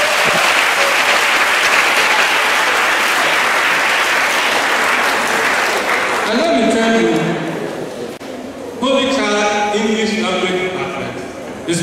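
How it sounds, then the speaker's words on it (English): An audience at a college of education debate claps for students, loud sustained applause for several seconds that then fades as a voice begins talking over the last of the clapping. "Shall we clap for them?"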